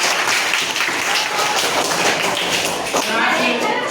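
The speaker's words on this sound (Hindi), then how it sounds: "वेरी गुड, दोनों के लिए ताली बजा दीजिए" Students in a school classroom clap in a dense, continuous round of applause that stays loud and steady throughout.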